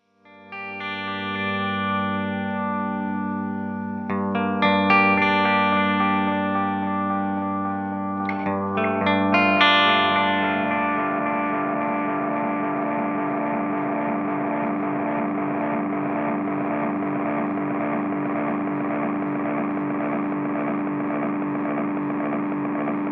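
A Nemesis delay pedal with its feedback knob turned up builds repeating guitar echoes into a steady, self-sustaining oscillating drone that holds at a constant level for many seconds, with no talking.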